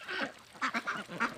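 Khaki Campbell ducks on a farm in Barpeta, Assam, giving several close, clear quacks in quick succession, with no talk.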